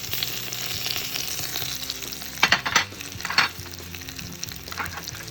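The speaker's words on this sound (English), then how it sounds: "we're just going to let these spices and herbs heat up a bit in the pot" Cloves, ginger, allspice, garlic powder, onion powder and wiri peppers sizzle and fry in a pot for Guyanese beef pepperpot. A steady crackling hiss runs throughout, with a few louder bursts of stirring and spattering partway through.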